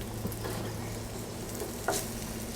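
Pierogi fry in a pan with a steady, moderate sizzle and crackle throughout, broken by a few sharper pops and light stirring clatter near the end.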